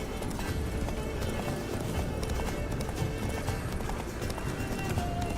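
Hooves of Roach, Geralt's horse in The Witcher 3, clip-clop at a gallop in a steady continuous run, mixed with dense game ambience throughout.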